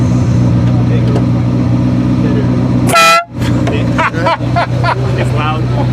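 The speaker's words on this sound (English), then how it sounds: "it's the old school Ferrari horn, not like the new ones that sound like a normal car. This is the old air horn." A loud, close blast of an old-style air horn on a Ferrari F40, a single sustained honk cutting over a steady idling engine, followed by people talking and laughing.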